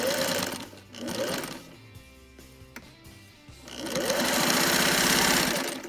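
A Singer 600E sewing machine stitching in two fast bursts at the start and end, with a quieter pause between; the steady rapid needle clatter is close and loud with no talk over it.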